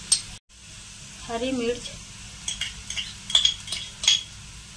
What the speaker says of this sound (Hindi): सब्जी को यहाँ पर मैं हल्का थोड़ा सा यहाँ पर भून ले रही हूँ दोस्तों